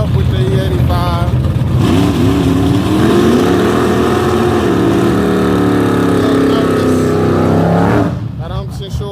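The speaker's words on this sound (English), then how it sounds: "first run at the track on the turbo setup with the E85" A turbocharged 5.3 V8 Chevy C10 running on E85 at a drag strip roars loudly up close, its engine note rising steadily through a hard pull before dropping off near the end, with a voice heard over it.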